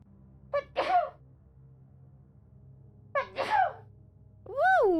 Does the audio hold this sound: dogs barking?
no